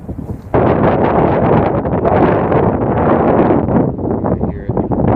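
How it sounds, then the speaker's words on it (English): Outdoor wind buffeting a microphone in an open field near a highway, a loud, continuous rumbling roar that fills the whole stretch and swells and fades slightly, with no voices. "So I apologize for the wind."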